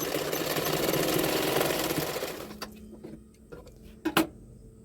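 A sewing machine stitches a blouse seam in a fast, steady whirring run for about two and a half seconds, then stops, leaving a few isolated clicks and knocks from the machine.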